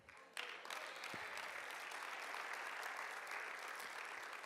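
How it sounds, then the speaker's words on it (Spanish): Church audience breaking into applause, starting abruptly and continuing as a steady, even wash of clapping with no talk over it. "Ese aplauso es para el Señor, no para mí."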